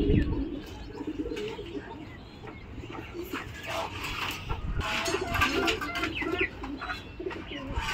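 A Pakistani Teddy pigeon, a high-flyer breed, coos softly amid other bird chirps and faint background noise, fairly quiet and continuous, with a little indistinct talk mixed in.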